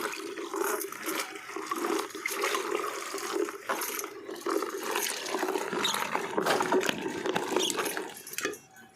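Broad beans being rinsed and cleaned in fresh water, giving continuous splashing and sloshing with occasional squeaky rubbing, steady and close throughout with no talk.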